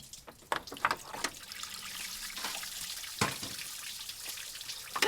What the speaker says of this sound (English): And this does a quick little coolant flush.